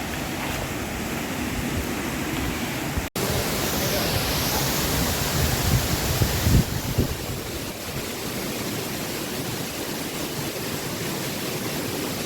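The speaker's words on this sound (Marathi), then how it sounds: "पूर्ण वॉटरफॉल चालू आहे आपला आता." Waterfall on the Masai plateau in full flow, a steady broadband rush of falling water that stays loud and unbroken throughout, with a brief sharp click near the start and no talking.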